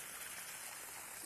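Water draining from a freshly watered plant container onto the ground in a garden, a steady soft trickling hiss that runs continuously and evenly throughout at low volume, with no voices.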